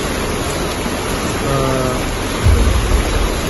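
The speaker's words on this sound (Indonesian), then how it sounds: "air sungai menjadi deras dan susah dilewati oleh mobil" A swollen, fast-flowing river in heavy rain rushes with a loud, continuous broadband roar, joined partway through by a low engine hum and a deeper rumble.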